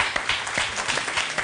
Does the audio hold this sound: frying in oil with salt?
no